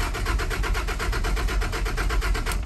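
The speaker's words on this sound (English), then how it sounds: "Oh, she cranks. She cranks, but it won't run." A Toyota Land Cruiser 80 series engine cranks steadily without catching, a loud, close, rapid rhythmic churning of the starter motor running for the whole stretch with no firing.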